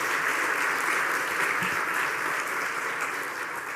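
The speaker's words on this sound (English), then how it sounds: "we could just give Mike a quick round of applause" An audience at a regional economic development conference in Appalachian Ohio gives a round of applause for a speaker named Mike: a continuous wash of many hands clapping, steady and moderately distant, fading slightly toward the end without speech.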